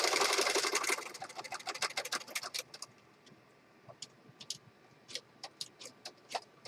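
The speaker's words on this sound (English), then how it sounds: "So I've got a regular sewing machine. I've got it set up for a zigzag stitch." A regular household sewing machine set for a zigzag stitch runs across a peacock-themed journal page for about a second of fast rattling stitches, then gives way to scattered clicks and light handling taps in a quiet room.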